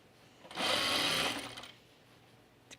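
A sewing machine runs in one steady burst of about a second while stitching the sleeve of an Atlas blouse by Maison Fauve, fairly close and alone, then stops into quiet.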